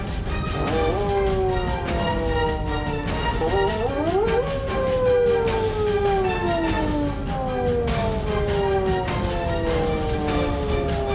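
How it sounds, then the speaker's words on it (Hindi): An ambulance siren wails continuously over loud rumbling traffic noise, its pitch sweeping up and down repeatedly. "सायरन बजा, नाका खुला"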